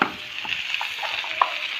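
Pumpkin and potato pieces frying in a pan, a soft continuous sizzle with a few small spatula scrapes and pops over a short moment.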